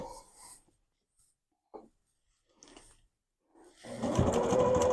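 A sewing machine back stitching webbing onto a stuffed goose: a few soft, isolated taps and shuffles, then a loud, steady mechanical whirr of rapid stitching for the final second.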